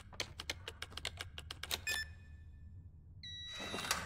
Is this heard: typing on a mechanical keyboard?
yes